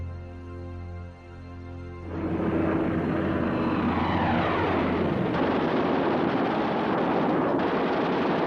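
Propeller-driven WW2 aircraft, Stuka dive bombers escorted by Messerschmitt fighters, roar loudly overhead as a dense, continuous engine drone swells in after a quieter tonal opening and holds steady.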